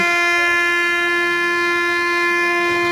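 An express train at Thimmanacherla railway station near Guntakal Junction, running from Bengaluru to Nanded, gives a steady tonal hum with a sustained horn-like whine, constant and fairly loud throughout, with no voices.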